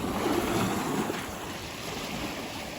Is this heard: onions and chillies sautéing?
no